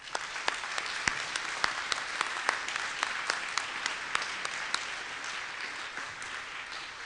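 Sustained applause from a ceremony audience at a faculty awards event, a dense bright wash of clapping with a few sharper nearby claps standing out, steady and fairly loud throughout.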